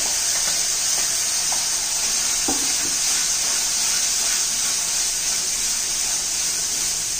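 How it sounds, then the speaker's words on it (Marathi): Green ground masala paste with a pinch of asafoetida sautés in oil with a constant close sizzle, a few light spoon taps over the top and no voices. "मसाला चांगला तेल सुटेपर्यंत परतून घेऊ आपण"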